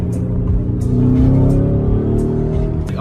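Car engine rumbling and revving while driving at night, a loud, continuous low drone with steady acceleration throughout and some faint background sound.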